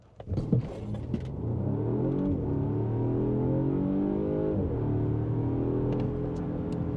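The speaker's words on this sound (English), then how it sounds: "Left foot fully on the brake, right foot fully on the gas, and then we'll go." A Volvo V60 launches hard from standstill using launch control. The engine note is loud and close, holding a strong, steady roar that climbs in pitch, briefly dips as it shifts, then keeps pulling.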